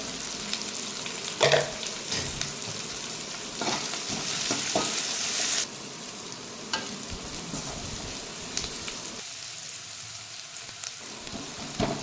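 Steady sizzling in a hot pan with occasional stirring scrapes, close up, as onions and garlic sauté with turmeric for a brinjal gravy; no voices.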